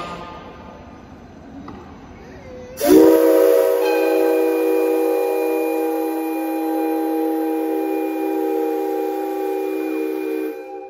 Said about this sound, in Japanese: それでは皆さん、最後の汽笛を聞く準備はよろしいでしょうか。